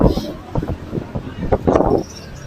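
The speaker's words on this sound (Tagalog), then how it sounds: "Lakas ng hangin, lamig." Gusty wind rumbles and buffets the microphone in uneven bursts, with faint voices underneath.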